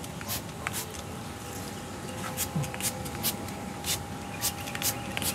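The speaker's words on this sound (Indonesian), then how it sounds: "Ini juga sekalian daun kita semprot" A hand sprayer mists grape bunches and leaves, a steady soft hiss broken by short repeated spray bursts, with faint background hum.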